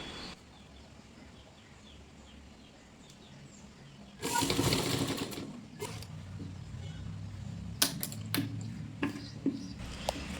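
A sewing machine stitching a petal pan neckline runs in a loud close burst, followed by scattered clicks and handling sounds of fabric and the machine, with no talk.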